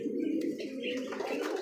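Satin pigeons softly cooing in a loft, a low murmuring coo rising and falling close by, with faint chirps in the background and no speech.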